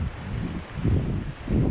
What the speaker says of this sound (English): You stop for a few minutes and that wind hits you